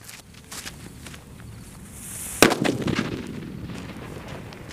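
A large Bluetooth bomb firecracker set off during Diwali fireworks testing goes off in one sharp, loud bang midway, followed by a short crackling rumble over faint outdoor background noise.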